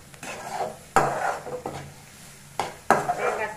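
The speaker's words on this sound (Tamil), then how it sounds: "நல்லா ஒரு பிரட்டு பிரட்டி விட்டு" Vegetable poriyal is stirred in a pan, giving a few distinct scraping, clattering strokes of a utensil against the metal, each followed by a softer sizzling rustle.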